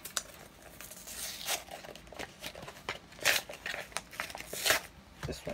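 A Pokémon Sword and Shield blister pack is torn open up close: a series of loud ripping and crinkling plastic bursts, uneven and stubborn, with quieter rustling between them.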